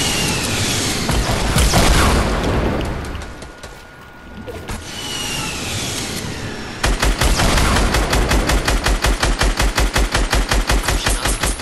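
A fighter plane in a video game fires its guns: a roaring engine and scattered shots, a brief lull, then a long, loud, rapid machine-gun stream of evenly spaced bangs.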